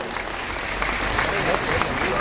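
Outdoors at a BJP farmers' wing tricolour rally in Seoni Malwa, a crowd claps in a loud, continuous, slightly muffled wash, with a faint murmur mixed in.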